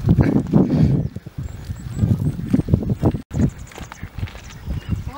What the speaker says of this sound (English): they're hungry little horses, aren't they?